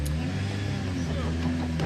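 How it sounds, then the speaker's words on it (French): A rally car engine humming and revving at the finish of a special stage at the Rallye de Monte-Carlo, a steady close drone lasting a couple of seconds with a voice briefly audible over it. "Fin de spéciale et fin de rallye pour Chris Mick"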